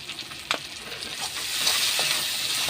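Jackfruit kofta curry masala with chopped tomatoes sizzles steadily in a pan while a utensil stirs and scrapes, a close continuous frying hiss with occasional clinks.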